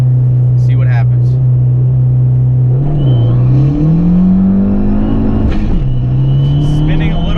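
An Abarth car launching on a drag strip pass, its engine droning loud and steady, then rising in pitch through the gears with brief dips at each shift.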